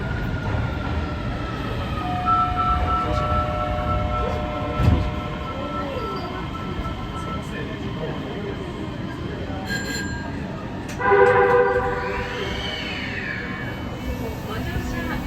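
Osaka Metro Midosuji Line 9000 series subway train running underground, a steady loud rumble with rising and falling motor whine and brief squeals, and a chime-like tone near the end; an onboard announcement voice speaks over it.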